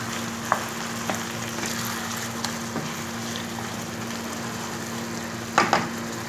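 Beef frying with onion, tomato and pepper in a pot for kebab halla, a steady close sizzle broken by a few sharp scrapes and clicks of a spoon stirring, loudest near the end.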